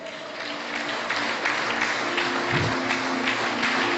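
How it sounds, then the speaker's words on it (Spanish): A church congregation applauds steadily and fairly loudly throughout, a dense wash of clapping with no clear talk over it. "Dale un fuerte aplauso al Señor"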